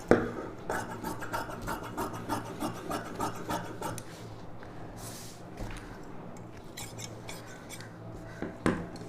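Scissors cut through blouse fabric for Aari work blouse cutting, a close run of rhythmic rasping snips and rubbing that slows and thins toward the end.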